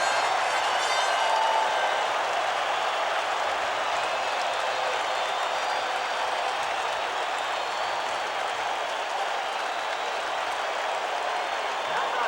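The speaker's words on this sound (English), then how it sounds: "Crowd is really into this game." Thousands of fans at a 1988 New York Mets baseball game cheer and roar in one steady, loud wash of crowd noise that holds without letup.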